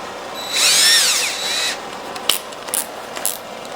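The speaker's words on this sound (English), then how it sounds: "Put this end in the drill." A power drill whirs loudly for about a second while work goes on building a portable camping grill, its pitch rising then falling before it stops, followed by a few short clicks and taps of tools.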